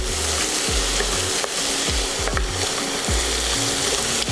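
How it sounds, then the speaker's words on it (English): Onions and red peppers sauté in a pan for a Caribbean scalloped cassava sauce, with a continuous close sizzle broken by several rhythmic scraping stirs and clicks of a utensil against the pan, and no talking. "I'm gonna let this saute for a couple minutes."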